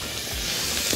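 Tomato juice hits a hot pan holding onion, garlic and boiled chickpeas, giving a brief close burst of steady hissing steam that stays loud and even throughout the short moment, with no voices.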